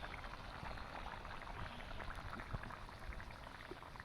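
Chicken liver curry boiling in a pot, a dense, steady bubbling and popping, close but soft, continuous with no talking.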